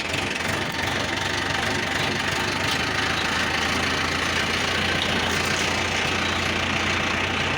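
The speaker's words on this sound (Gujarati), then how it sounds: "જો અમે ટ્રેક્ટર લઈને જાય વાડી" A tractor engine runs loud and steady at idle with a continuous low knocking rumble, close by and unbroken throughout, with faint voices now and then.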